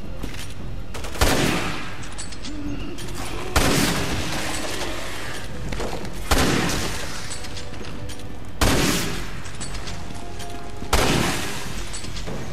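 Bursts of rapid video game gunfire repeat about every two and a half seconds, each volley loud and sharp with a booming edge, no talking.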